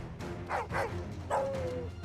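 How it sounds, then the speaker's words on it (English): Dogs in the video game Final Fantasy 16 give a few short, fairly quiet barks and yips, then a rising whine, over a low game soundscape. "And dogs."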